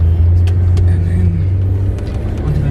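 A 2007 Audi Q7 3.0 TDI Quattro diesel pulls around a roundabout under power, its engine a steady, close, low drone with a little road rumble beneath.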